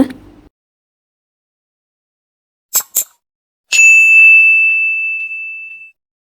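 A single bright notification bell ding rings out clearly after a couple of short clicks, its tone sustaining for about two seconds before fading, with no voices over it.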